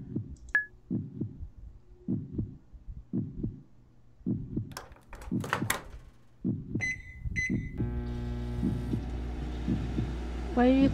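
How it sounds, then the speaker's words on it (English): In a video game, short beeps and knocks give way to a loud, steady microwave oven hum that starts near the end and drones on for the last few seconds. "Microwave is freaking loud."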